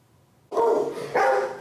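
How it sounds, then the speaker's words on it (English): A shelter dog at a city animal shelter barks excitedly before a walk, two loud close barks in quick succession after a brief quiet moment. "Shelter dog Hugo is excited, ready for his daily walk"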